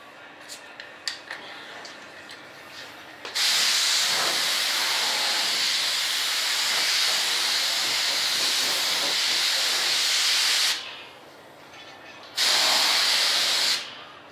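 Spray primer mist-coated onto a radio-controlled F-105 Thunderchief jet model: one long, steady, close hissing spray burst lasting about seven seconds, a pause, then a second shorter burst, with faint clicks before the first.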